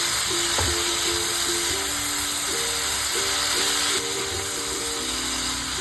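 Cauliflower curry with peas sautéing in a wok gives a dense, loud, continuous frying hiss, with a steady tonal hum running underneath throughout.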